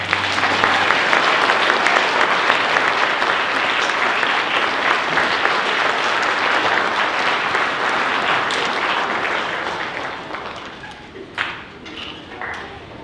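An audience applauds after a ninth-grade school concert, giving dense, loud clapping that holds steady for about ten seconds, then thins out into a few scattered claps and fades.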